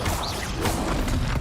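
A dense, continuous wash of crashing, whooshing magic effects as Glacius and Confringo spells are cast in combat in Hogwarts Legacy, loud and steady with no pauses.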